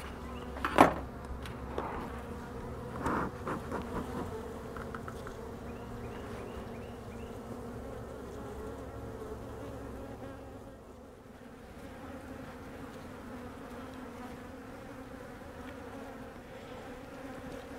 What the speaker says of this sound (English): Oh, there's so many bees in here.